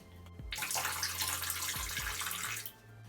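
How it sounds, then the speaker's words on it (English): Gin pours steadily into a filling bathtub for a couple of seconds, a close, splashy rush over a low background hum. "I'm gonna pour in some of my gin."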